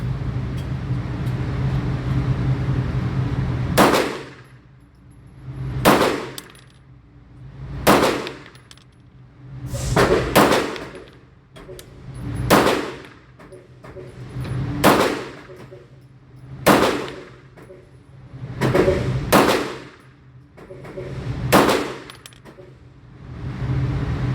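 A Staccato P pistol fired at an outdoor shooting range: about ten sharp, loud single shots at irregular intervals, each followed by a decaying echo over a faint background rumble.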